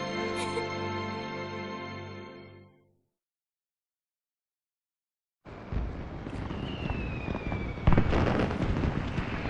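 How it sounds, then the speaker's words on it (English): Fireworks go off in the video game Final Fantasy XIII: music fades into a brief silence, then a dense, steady crackle and rumble of bursts with a whistling streak, loud and continuous. "Gotta love these fireworks."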